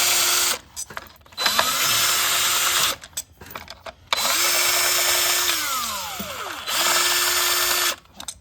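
A power tool backs spark plugs out of a 2016 Mazda CX-5 engine in three close, loud bursts of whirring. Its pitch rises and falls as the tool spins up, loads and slows, with brief gaps between runs.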